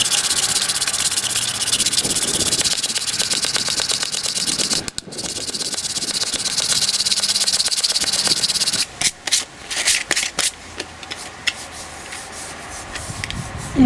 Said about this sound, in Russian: Ну, делаем дальше, шкурим